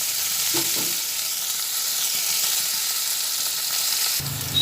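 Chopped onions fry in hot oil in a wok for a kopta curry, producing a dense, even hiss close up, with a light utensil knock near the start and a clunk at the end, no voices.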